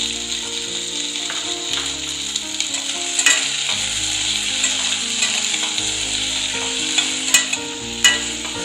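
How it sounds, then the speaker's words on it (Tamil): Four medium tomatoes fry in a little oil for Tamil tomato kulambu, giving a steady sizzle with occasional sharp clinks and scrapes of a spoon stirring the pan, close and alone, with a low hum underneath. "இப்ப கொஞ்சமா எண்ணெய் விட்டுருக்கேன். அதுல தக்காளி சேர்த்துக்கலாம்."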